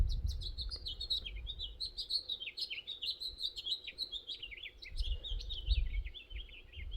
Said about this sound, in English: Birds are extra vocal this morning.